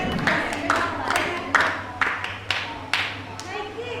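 A small family group claps hands at home in a loose, uneven rhythm of about eight claps, close by and steady, with faint background sound throughout.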